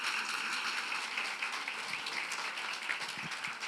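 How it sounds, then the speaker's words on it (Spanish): A church congregation claps during a Spanish-language worship service, giving a steady, even wash of applause at moderate-to-low volume with no clear speech over it. "Denle un aplauso al Señor."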